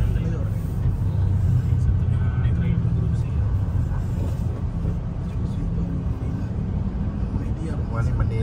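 Steady low rumble of heavy road traffic near a Manila airport, with engines droning continuously and no distinct passes, while a voice talks over it throughout.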